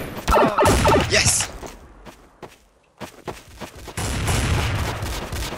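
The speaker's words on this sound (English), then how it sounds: "Damn, I'm getting shot at." Gunfire in the video game Counter-Strike: Source: rapid bursts of shots, dense and loud at first, then scattered single cracks after a brief near-silent gap, and a long loud stretch of sustained firing near the end.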